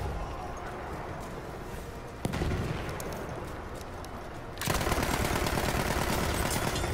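Video game battle gunfire crackles in a continuous stream of rapid shots, with a sharp report partway through and a louder, denser burst of automatic fire near the end.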